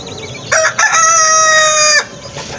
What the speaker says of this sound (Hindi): हमारी ना एक मुर्गी अंडा देने बैठ गई है।